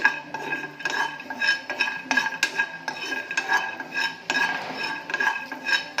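A spoon scrapes and clinks against a frying pan while peanuts are dry roasted, giving steady, close rattling and stirring taps with a light metallic ring.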